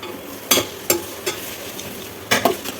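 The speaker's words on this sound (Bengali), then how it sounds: "এই তো ভাজা ভাজা হয়ে গেছে এখন এই যে বানানো নুডলসগুলো দিয়ে দিচ্ছি" A spatula stirs noodles with egg in a frying pan, striking the pan in a few sharp clacks over a soft background sizzle.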